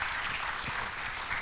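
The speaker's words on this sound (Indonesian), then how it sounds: "Tepuk tangan untuk 3 pembicara kita." Audience applause for three speakers at an AI and storytelling conference panel, a steady, fairly faint wash of clapping filling the whole moment with no voices over it.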